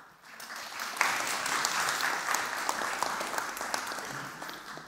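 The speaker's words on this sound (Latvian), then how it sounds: "Aplausi!" Dense audience applause for a hackathon team at an open-data innovation event, a steady wash of many hands clapping that swells and holds for several seconds.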